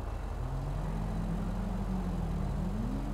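A car approaching in Grand Theft Auto V, a steady low engine drone with slowly rising pitch, loud and continuous with no voices.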